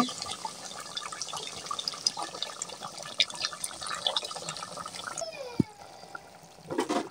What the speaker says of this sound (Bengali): ঝোলের জন্য পানি দিয়ে দেব